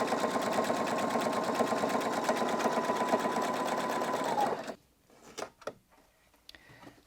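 A sewing machine runs steadily and close by as it stitches bias binding on with a bias binder foot. The motor whirs continuously for several seconds, then stops, leaving a few faint handling clicks and rustles.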